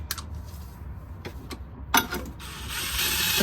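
A ratchet clicks in short bursts while tightening transmission mount bolts on a Cadillac CTS-V, close-up metallic ticking separated by pauses, followed by a rising mechanical rasp.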